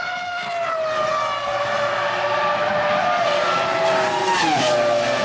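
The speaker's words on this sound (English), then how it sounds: "Jarno Trulli is desperately hoping that something goes wrong with that BMW engine." Formula 1 race cars roar at the 2003 German Grand Prix, including a BMW-engined car and a Toyota. The engines scream at sustained high revs, and near the end the pitch swoops down as a car passes, with no talk over it.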